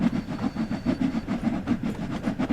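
Steam locomotive running, a steady rhythmic chuffing beat at close range, evenly spaced pulses over a low rumble, no talk.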